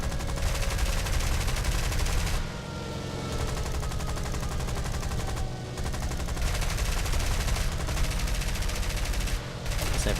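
Turret guns fire in the War Thunder combat video game in dense, rapid bursts with brief pauses between volleys. The rattling gunfire stays loud and continuous, and no one speaks.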